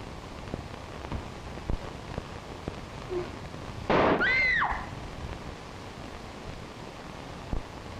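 A single gunshot in a 1932 black-and-white film, a sharp crack with a short ringing tail standing out from faint crackly background noise.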